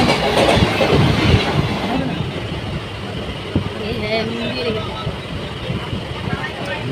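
A passenger train rolls along the rails during a journey to Mayapur, its steady rumble and rhythmic clickety-clack of the wheels close and continuous, with people talking over it.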